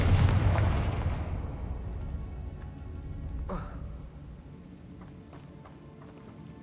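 In a PS5 game, a Confringo fire spell goes off as a loud, deep explosion that slowly fades into a rumble. A sharp whoosh follows a few seconds later over quieter background game sounds.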